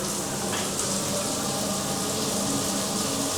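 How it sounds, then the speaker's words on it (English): A large overhead waterfall shower runs in a cruise ship cabin, a steady, dense hiss of falling water at close range with no one speaking. "So we have a huge shower here."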